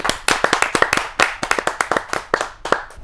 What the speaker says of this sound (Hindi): आपका भरपूर स्नेह आपकी तालियों के माध्यम से उनको मिले।